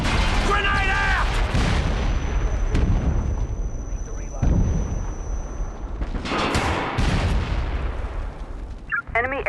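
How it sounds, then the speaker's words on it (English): Airstrike explosions and gunfire in the SOCOM 4 video game boom and crackle loudly in dense, overlapping blasts, with game voices calling out among them. "Airstrike inbound."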